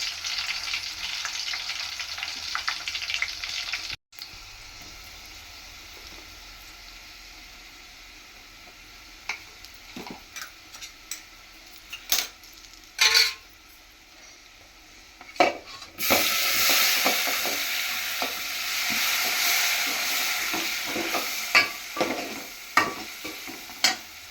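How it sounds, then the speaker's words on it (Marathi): Garlic and bay leaves sizzle in hot oil as the base for a chicken sambar. A steady crackling hiss carries occasional scraping stirs and clinks of the pan, and the frying swells noticeably louder partway through, with no voices. "आपण त्यामध्ये तेल गरम व्हायला ठेवलं होतं आणि त्यात लसूण आणि तेजपत्ता आहे तो टाकला आहे"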